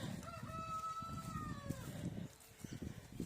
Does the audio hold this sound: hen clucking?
yes